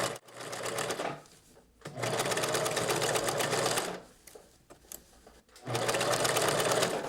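A sewing machine stitches a sleeve seam on a bolero in loud, sustained runs of rapid mechanical whirring, pausing twice before starting again, with no talking over it.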